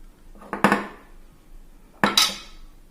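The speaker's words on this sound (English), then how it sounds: "Now we combine the cardamom with the flour." Ground cardamom is mixed into flour in a bowl, with two sharp, close metallic clinks of a utensil against the bowl about a second and a half apart, then quiet.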